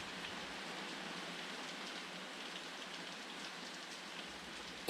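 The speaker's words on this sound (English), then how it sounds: "It's raining again." Steady rain falls in a video game, an even, soft hiss that holds without a break for the whole stretch, with no voices.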